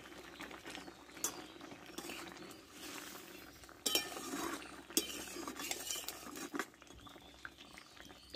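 A fish curry of small chuno fish with potato, eggplant and bori bubbles softly in a pot. A spoon stirs it with scattered clinks and scrapes against the metal, and the whole sound stays quiet and close.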